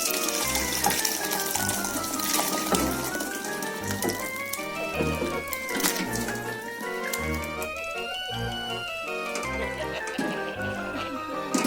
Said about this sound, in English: Just drain all the water out, push it down a bit just to get the bulk of the water out.